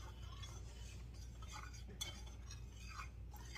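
Black pepper being stirred into a mixture with a utensil, giving soft, faint scraping and clinking against the bowl throughout, close by and quiet.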